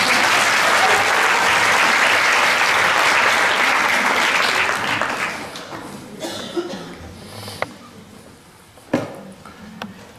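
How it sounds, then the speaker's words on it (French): A large audience applauds loudly and steadily for around five seconds, then the clapping thins and fades to scattered claps and a few isolated knocks in a quieter room. "Applaudissons Ted."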